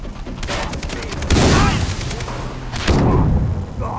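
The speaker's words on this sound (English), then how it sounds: "Okay, shotgun time." A shotgun firing in Far Cry 3, heard as loud, heavy blasts with booming tails. Two big shots stand out above rattling gunfire in the background.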